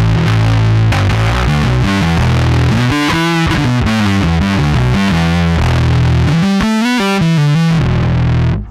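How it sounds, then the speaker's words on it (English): Bass guitar played through a Source Audio Aftershock bass distortion pedal pushed into its heavier second stage, giving a loud, thick, saturated riff with sustained gritty notes that holds continuously throughout. "I want to hit that second stage of distortion and really crank it up"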